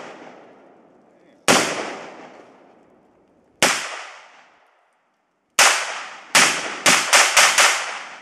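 AR-15 rifle fired outdoors, with sharp, loud cracks that ring out and decay: three single shots spaced apart, then a quick rapid burst of several more.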